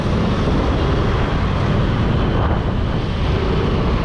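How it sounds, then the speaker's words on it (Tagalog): Strong, cold wind roars steadily in Tagaytay, buffeting the microphone with a constant loud rush throughout. "Ang lamig pa ng hangin dito guys. Parang bagyo eh."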